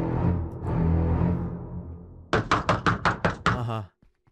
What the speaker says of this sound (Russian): и они уже в дверь стучатся.